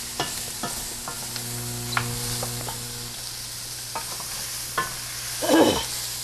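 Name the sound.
stirring cooked shrimp with dill in a pan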